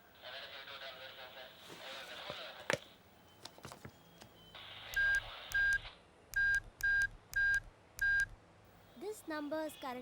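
Telephone keypad tones dial a number in a tense Tamil film scene, with several rapid beeps and then a steady run of evenly spaced DTMF tones, each clear and close, between stretches of indoor noise.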